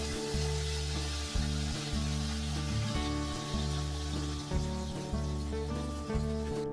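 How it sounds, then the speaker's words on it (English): Cloves, black cardamom and a cinnamon stick fry in hot oil, making a dense, loud, continuous crackling sizzle close by with a low steady hum underneath. "cloves or long, black cardamom or badi ilaichi, and a cinnamon stick or dalchini. Now let them fry for few seconds"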